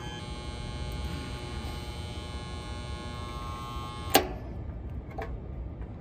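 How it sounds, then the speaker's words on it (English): An air conditioner's contactor switches off with a single sharp click, after which the steady electrical hum drops away and leaves quiet room tone with a faint later tick. "And our contactor just turned off,"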